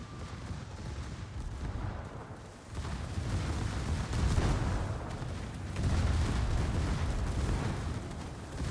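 Heavy naval gunfire and booming shell impacts from a World of Warships tournament match, with the Massachusetts battleship firing broadsides; a dense, continuous rumble of cannon blasts and explosions swelling in waves.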